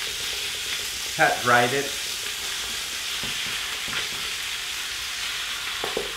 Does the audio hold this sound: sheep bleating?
no